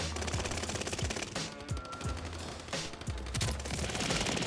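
Rapid automatic gunfire from a shooter video game, dense loud bursts of shots rattling almost continuously with brief gaps, close and dominant.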